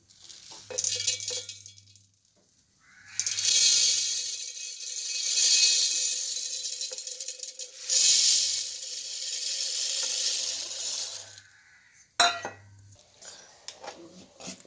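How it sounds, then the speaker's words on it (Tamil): A mixer grinder whirs and rattles loudly as it grinds green gram, running in several bursts with short pauses between them. "மிக்ஸி போட்டுக்கலாம்"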